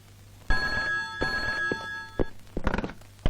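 A new cell phone rings with a bright electronic ringtone that starts abruptly and holds for about two seconds, followed by a few soft thumps and knocks.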